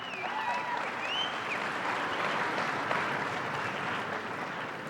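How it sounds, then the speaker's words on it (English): Sustained, dense applause from a school audience at a fine arts assembly fills the space steadily and loudly, with a few faint whistles or cheers rising above the clapping. "Give them a round of applause."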